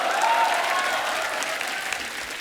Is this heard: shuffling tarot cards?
no